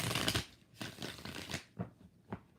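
A deck of tarot cards is shuffled several times, in short papery bursts that come at a roughly even rhythm, close and clear, then shorter and sparser toward the end.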